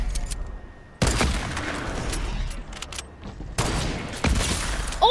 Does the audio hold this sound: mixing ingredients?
no